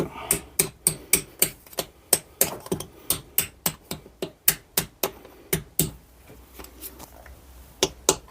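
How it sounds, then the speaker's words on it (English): A large hammer strikes a bearing in a Peugeot 207 MA gearbox repeatedly in a steady rhythm, about two or three sharp clanks per second, close and loud, pausing briefly before a few final blows. "Finesse with the biggest hammer I've got."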